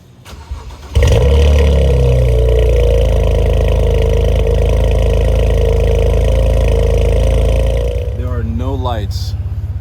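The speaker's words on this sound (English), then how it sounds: "let's go ahead and get an exhaust clip of it" BMW 335i with the N54 engine starting up, a quick crank catching into a loud, steady exhaust idle that holds for several seconds, with a brief voice near the end.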